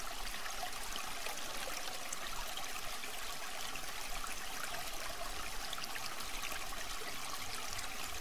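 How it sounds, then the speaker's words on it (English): A stream of flowing water rushes steadily and evenly in a continuous, moderately loud wash of sound, with no voices over it. "Tune in more closely to the sound of the flowing water."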